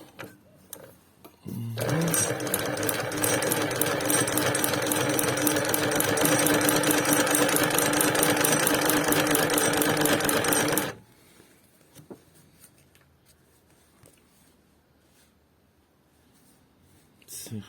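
Heavy-duty industrial sewing machine for thick materials, a Ukrainian saddlery class 93 model, starts up and runs in a steady loud stitching drone for about nine seconds, then stops abruptly, leaving quiet room noise.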